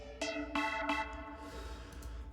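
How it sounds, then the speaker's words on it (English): A blue arpeggiated synth in a deep house break, played dry with no effects, sounds as a few bright plucked notes in quick succession that ring out and fade, with no voices. "Used another blue arpeggiated sound,"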